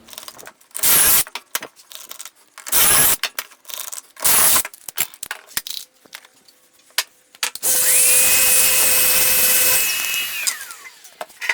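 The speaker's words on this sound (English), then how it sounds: "First, I'll throw some pocket holes in this, and then we'll attach this" A power drill boring pocket holes into a wooden shelf piece, with several short bursts amid clatter and handling knocks, then one longer steady whirring run up close.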